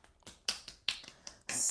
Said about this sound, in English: clapping that foot